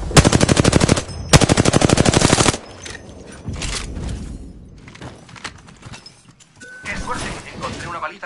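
Enemies firing on the player in a video game: two loud bursts of rapid automatic gunfire in the first few seconds, followed by quieter game sounds and a player speaking.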